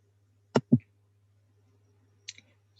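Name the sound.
mouse clicking to add a webhook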